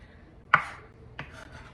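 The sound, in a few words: chopping onion with a knife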